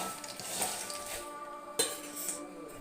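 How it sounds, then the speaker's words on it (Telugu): Raw peanuts are stirred while they roast in a pan, giving soft scraping with a few sharp metallic clinks of the utensil against the pan, close by and with no talking. "అందుకని మా ఆయన కోసం శనక్కాయలు వేయించుతున్నాను"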